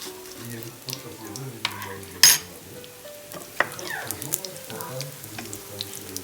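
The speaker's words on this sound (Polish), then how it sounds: "A tam się nam smaży." Steady sizzling of food frying in a pan, with a few clinks and a brief splash of running water partway through.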